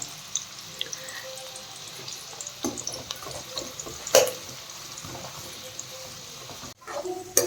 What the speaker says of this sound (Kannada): ತುಪ್ಪದಲ್ಲಿ ಡ್ರೈ ಫ್ರೂಟ್ಸ್ ಫ್ರೈ ಮಾಡ್ಕೊಂಡಾದಮೇಲೆ ಒಂದು ಸ್ವಲ್ಪ ಆನಿಯನ್ಸ್ನು ಫ್ರೈ ಮಾಡ್ಕೊತಿದ್ದೀನಿ